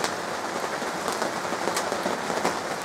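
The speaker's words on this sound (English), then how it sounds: "It's raining outside." Rain falls steadily outside, a dense patter of drops on surfaces with scattered louder drips, fairly close and continuous, with no voices.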